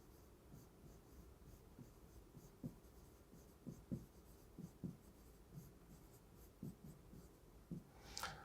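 Soft, irregular scratches and taps of a pen or marker writing on a surface, faint and close, with no talking over them.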